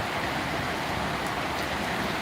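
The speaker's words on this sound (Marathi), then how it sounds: "बघा किती पाऊस पडायला लागलाय" Heavy rain pours down in Solapur, a steady, dense broadband hiss of water that stays loud and even throughout with no voices over it.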